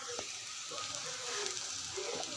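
Spices sizzling in hot oil for a Baila fish curry: chili powder, turmeric, cumin, coriander and salt. A soft, steady hiss of frying carries on throughout, fairly quiet and with no talking.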